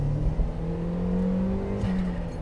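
A turbocharged Mk1 Mazda MX-5 drives on a wet road, heard from inside the cabin as a steady engine drone and whir that swells slightly under throttle, with no voices.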